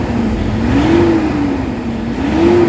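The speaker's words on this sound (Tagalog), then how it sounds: "Galit ng makina, singaw." A Toyota Hilux engine revs hard with power loss, a steady loud mid-pitched roar that climbs and falls in two slow swells, with a faint hiss on top.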